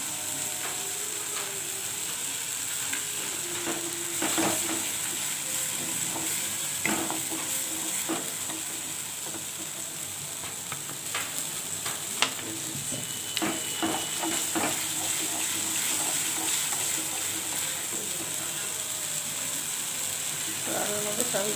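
Poppy seeds fry in a pan for aloo posto, giving a continuous dry sizzle with frequent rattling, scraping strokes as they are stirred, close up and steady throughout.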